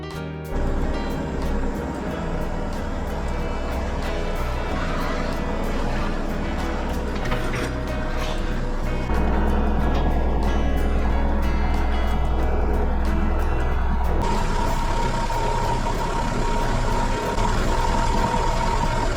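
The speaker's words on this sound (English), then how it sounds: "So let's go get the tractor." A Kubota tractor drives at an airport hangar in snow, its engine a loud, steady diesel rumble close by that swells in the middle and then settles, with no talk.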